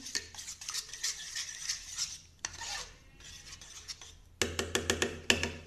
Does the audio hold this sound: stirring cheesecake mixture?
yes